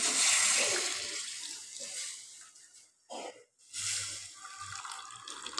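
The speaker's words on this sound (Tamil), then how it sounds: "இப்போ அந்த தண்ணியை நம்ம சேர்த்துடலாம்." Chickpea cooking water is poured into a cooking pot, splashing and gurgling in irregular bursts, loud at first, then briefly stopping and resuming more softly, heard up close with no talking.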